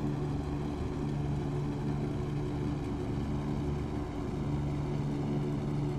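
Steady propeller airplane engine drone in the flight game Air Hauler 2 as the aircraft takes off, a continuous low hum with little variation.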